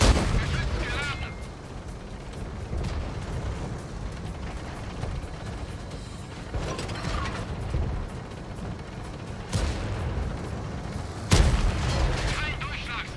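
Tank cannon blasts in a Cold War-era tank combat video game, several sharp loud booms spaced apart over a constant rumbling engine bed, with voices talking in between.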